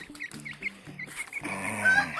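Indonesian black chickens cluck and call on a farm, a run of short nasal clucks followed by a denser overlapping chorus of fowl, close and moderately loud.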